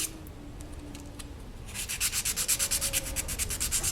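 Sanding a polymer clay pendant by hand. After light scattered scuffs, rapid rhythmic strokes of about four per second build into a steady, close rasping.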